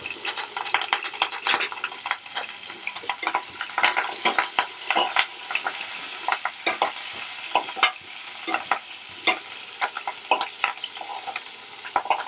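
Green chillies and curry leaves fry in hot oil for a tomato pappu tempering, a dense, continuous crackle and sizzle peppered with quick metallic spoon clinks against the pan, with no voices.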